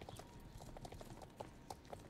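Horse hooves clip-clop in a steady, repeated rhythm while a rider travels through a horse-riding video game, with a faint background hum underneath.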